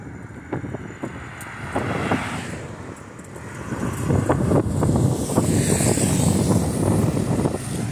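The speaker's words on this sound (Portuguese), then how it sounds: "Barulho de vento, né?" Steady, loud wind buffets the microphone while cycling outdoors, a continuous roaring rush with gusty swells that grows stronger toward the end, with no talking.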